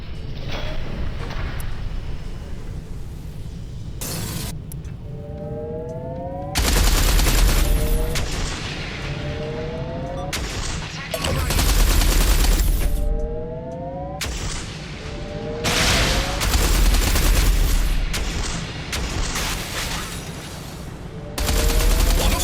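Incoming torpedoes and gunfire in the space combat game Everspace 2, with repeated bursts of heavy rapid fire and booms coming in loud waves between quieter stretches, plus rising whistling tones of approaching projectiles.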